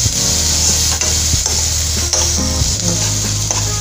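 Thinly sliced onions and green chilies with turmeric frying loudly in a pan, a dense steady sizzle close up with occasional stirring knocks and scrapes.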